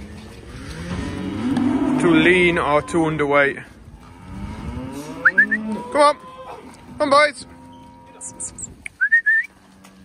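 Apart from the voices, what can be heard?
cattle mooing on a farm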